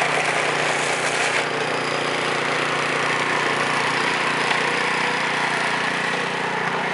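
A snow blower clearing a driveway, its engine droning loud and steady at close range throughout, with a dense mechanical roar and no talk.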